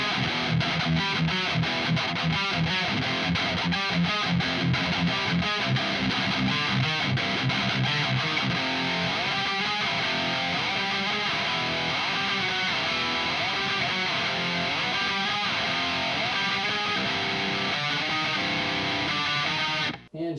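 Electric guitar played through a Marshall JVM410H amplifier on its red mode with reduced gain, a continuous distorted riff with fast palm-muted chugs at the start opening into sustained chords, loud and alone before cutting off.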